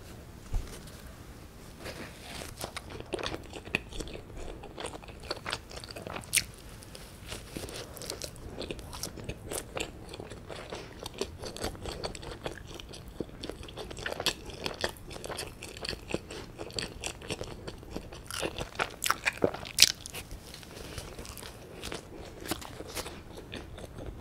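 Close-up chewing of soft, chewy tangzhong milk bread from a Jeju bakery: repeated soft bites and moist mastication with small crackles and tearing, steady and intimate with no talking.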